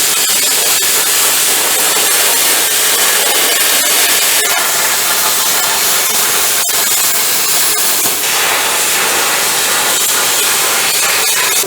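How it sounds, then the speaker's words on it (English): A plasma cutter slices through a welded, non-stock truck bed floor, giving a loud, steady rushing hiss that runs unbroken from start to finish, with a few faint clicks and pops. "So let me get the plasma cutter out and go to cutting it, I reckon."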